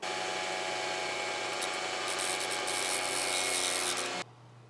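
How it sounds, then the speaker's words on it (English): Small power tool drilling a hole into a model for the axle, a steady high whine with grinding texture held for about four seconds before it stops abruptly, close and alone. "what I'm going to do is go ahead and put a little hole in here so that I can get to"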